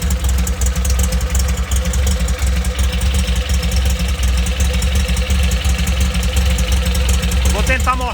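A supercharged 1200 engine built as a replica of the Porsche 356 motor runs at a steady idle with rhythmic ticking pulses, loud and close, while a voice speaks briefly near the end.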